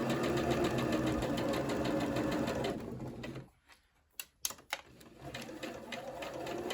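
A sewing machine stitches a shirt collar, running in a steady fast mechanical chatter close by, stopping for a second or so with a few clicks and knocks, then starting up again.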